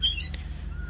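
A white-rumped shama (murai batu) in a breeding setup gives a couple of short, shrill squawking calls close by, followed by quieter background hum.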